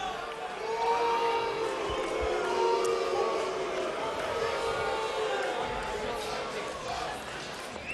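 A large crowd at a heavyweight boxing arena fills the space with a steady, loud roar and murmur between rounds, with scattered claps and shouts throughout.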